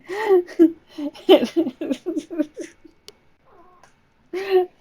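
A cat fusses with a run of short, whiny meows close by, then a quieter low murmur and one more drawn-out complaining meow.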